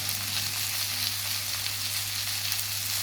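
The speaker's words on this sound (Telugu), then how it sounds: "కొంచెం బెండకాయలు వేగనివ్వాలి" Okra (bhindi) fries in a pan on low heat with a steady, dense sizzle and crackle that continues without a break, close by and alone with no voices.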